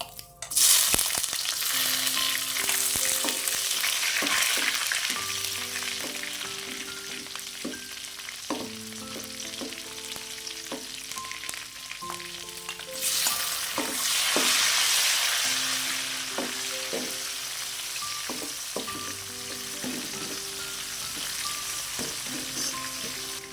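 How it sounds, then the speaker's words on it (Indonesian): Sliced shallots and tomato sizzle and fry steadily in a hot pan for sambal with squid, with repeated spoon-stirring clatters throughout and no talking. "Masukin dulu bawang merah sama tomat yang diiris ini supaya lebih harum."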